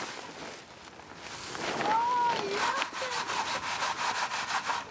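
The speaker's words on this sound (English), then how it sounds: "the chaff is removed by first passing the seeds through a coarse sieve that retains the chaff" Broccoli and cauliflower seeds are shaken through a coarse sieve that holds back the chaff, making a continuous gritty, rasping rustle that turns into a steadier rhythmic shaking, close up and with no talking.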